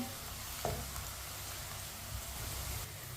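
Onion and garlic brown in a pan for Punjabi-style turnip shalgam, producing a steady, soft sizzle and crackle throughout, with a faint clink of a utensil and no voices.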